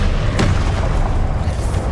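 A Confringo blasting spell going off in the Hogwarts Legacy video game: a loud, booming burst with a sharp crack near the start, then a rumbling low tail under continuing battle noise.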